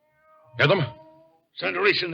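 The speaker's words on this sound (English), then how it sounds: "that's a cat meowing" A cat meows once in an old-time radio mystery drama, a short, loud, wavering cry, followed closely by someone talking.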